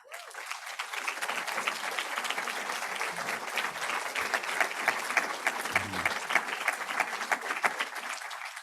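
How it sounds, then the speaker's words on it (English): Audience applause at a closing ceremony, dense sustained clapping from a large crowd that holds steady for several seconds without a break. "A quick round of applause."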